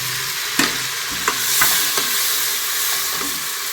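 Tomatoes and chillies sizzle in hot oil with potato and eggplant for an aloo baingan curry, a steady loud fry with a few sharp stirring clacks scattered through it.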